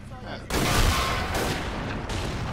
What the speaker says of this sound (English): He's trying to mortar me?